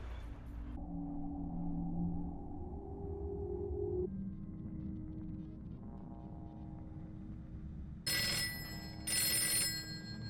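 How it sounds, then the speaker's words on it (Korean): A telephone rings in a dramatic thriller scene. Sustained electronic tones are followed by two loud, bright bursts of ringing near the end, with no speech. "다음날 걸려온 전화."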